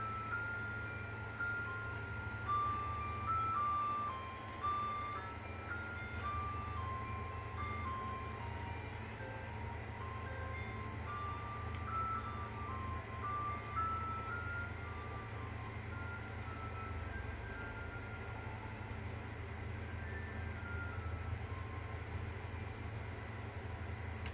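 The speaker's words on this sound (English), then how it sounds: "There's the ice cream truck." An ice cream truck plays its tinkling melodic jingle outdoors at a moderate distance, the tune repeating steadily over a low background hum of traffic.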